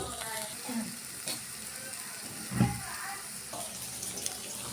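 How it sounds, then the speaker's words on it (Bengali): Okra sizzling and crackling in hot soybean oil in a pan, a steady broadband fry with a few louder spits and stirring knocks partway through, close and moderately loud. "এখন ভেন্ডিটি বেজে নেব ফ্রাই বিনের তেল দিয়ে ভেন্ডিটি দিয়ে দিলাম"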